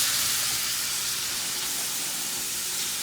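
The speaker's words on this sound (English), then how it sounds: "You just want to fry this up for just a few minutes" Ground beef fries in a pan for Indian fry bread tacos, giving a steady, close, broadband sizzle and hiss that runs evenly throughout with no talking.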